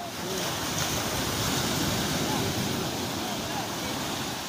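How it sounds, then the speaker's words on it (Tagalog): Ocean waves surging and washing continuously, a broad roaring wash of surf close by, with wind noise mixed in. "Yan na, alon!"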